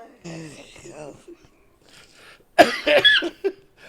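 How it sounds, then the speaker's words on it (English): Quiet talking gives way to a sudden burst of harsh, rasping coughs close by, several in quick succession. "You've made me cough now."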